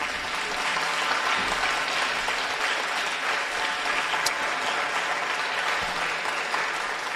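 Audience applause after a lecture on language, culture and society, a steady dense clapping from a large hall crowd that holds at an even level throughout without speech.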